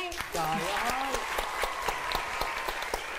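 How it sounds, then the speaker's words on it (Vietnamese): Studio audience at a Vietnamese comedy show applauding in a steady patter while a voice talks and sings over it, sharp individual claps standing out near the front. "Đúng rồi, vỗ tay."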